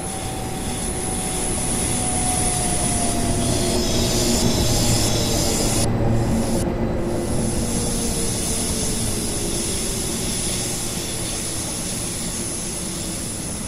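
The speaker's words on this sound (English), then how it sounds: "should have no trouble slowing this train down." A loud, steady train rumble fills the scene, with a long, high wheel squeal gliding downward as the train slows. No voices.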